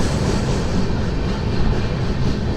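Along the main line, the Telangana Express passenger train gathers speed, heard as a loud continuous roar of running gear and rushing noise with no talk.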